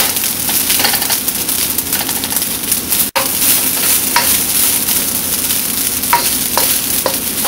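Garlic and rice stirred together in a frying pan for garlic fried rice: a steady close sizzle with scraping spoon strokes and light clinks throughout, one brief cut partway, no talking.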